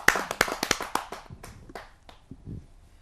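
Audience applause rings out at a Hindi poetry gathering, a burst of sharp claps that thins out into scattered hand claps and fades toward the end.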